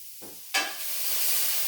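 Cabbage is stirred in a hot pan for a chili-pepper stir fry. A scrape of the utensil is followed by a sudden rise into loud, continuous sizzling and frying hiss, close up, with no talk.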